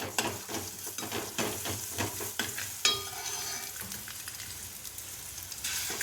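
Onions fry in a pan while ginger garlic paste is stirred in, with rhythmic spoon scrapes and taps over a constant close sizzle that settles into a steadier hiss.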